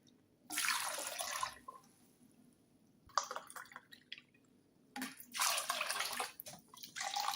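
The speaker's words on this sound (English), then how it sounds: "Let us add 8 glass of water for the 1 kg mutton." Water is poured from a glass into a pressure cooker holding 1 kg of mutton, in three separate splashing pours with quiet pauses between them. The sound is close and fairly soft, with no talking.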